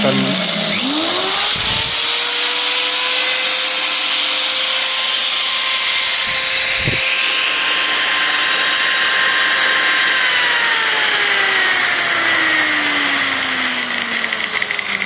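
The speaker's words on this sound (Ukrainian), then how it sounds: "Зараз покажу, що працює болгарка." A small angle grinder powered through a 12V-to-220V 2000W inverter spins up to a loud, steady high whine and runs continuously, later winding down, with a person talking over it.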